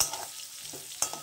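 A small onion and five-spice seeds frying in a little oil make a soft, brief crackle, with a couple of quick stirring clicks.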